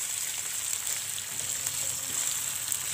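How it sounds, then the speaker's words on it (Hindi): Potatoes frying lightly in a pan make a steady, even sizzle at moderate loudness, a continuous bright hiss with faint crackles and no voices. "आलू को हल्का सा फ्राई कर लूँगी।"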